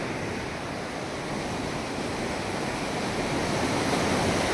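The flooded Ghod river at Kalamb rushes past in a steady, loud roar of churning water, broadband and unbroken, with some wind buffeting the microphone.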